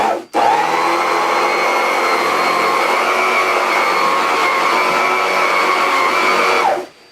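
Dri Star dry powder carpet cleaner machine switching on with a loud, steady high-pitched motor whine, holding constant for several seconds before cutting off, close and alone.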